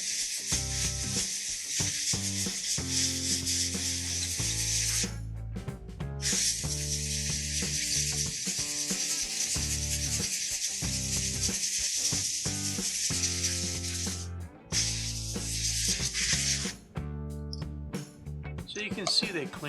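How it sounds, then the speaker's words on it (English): Compressed air hissing in long, loud bursts through the mesh air filter of a Jonsered 2152C chainsaw, steady blasts broken by brief pauses, with a mechanical rattle underneath. "You can blow them out with compressed air."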